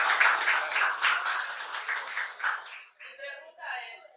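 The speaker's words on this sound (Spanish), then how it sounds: "Un aplauso para" Applause from the audience at an accounting conference on forensic auditing, a steady patter of many hands clapping for about three seconds, then it thins and fades as a voice begins to speak.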